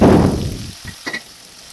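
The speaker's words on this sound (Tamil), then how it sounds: "அந்த வெங்காயத்தோடு அந்த பூண்டையும் சேர்த்து வதக்கிக்கோங்க" Onion and garlic sauté in a pan for a Tamil sundakkai kara kuzhambu, a loud broad sizzle that fades over a second, followed by a few faint clinks and scrapes.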